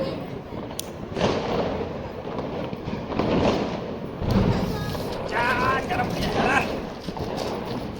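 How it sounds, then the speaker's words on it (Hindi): Sky shot fireworks launched during a family Diwali celebration burst overhead in repeated crackling pops and thumps, moderately loud against continuous background noise, with people talking throughout. "तो ये भाई चला रहा है स्काई शॉट, फिट लगा रहा है।"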